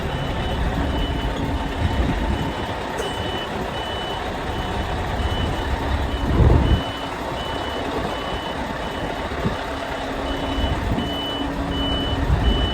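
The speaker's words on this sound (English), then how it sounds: "it's always a bit tight trying to reverse into these places" A truck reverses on a busy industrial estate, its reversing alarm beeping in a steady, evenly spaced pattern over a loud continuous engine rumble, with a brief heavier surge midway.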